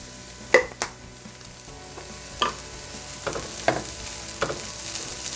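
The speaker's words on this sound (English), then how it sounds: "kind of saute that around for just a bit." Buffalo chicken mixture with chives sautéing in a pan, a quiet low sizzle broken by a few sharp clinks and scrapes of a utensil stirring.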